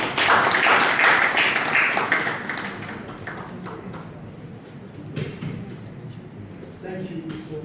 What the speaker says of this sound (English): Oh, please, clap for me.